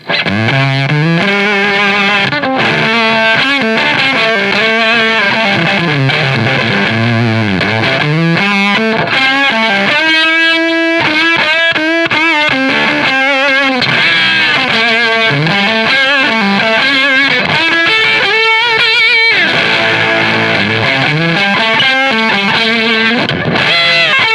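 A GMRspares BC hand-wired Fuzz Face clone fuzz pedal with its output turned all the way up drives an amp, producing a loud, thick distorted guitar with sustained chords and sliding, bending notes.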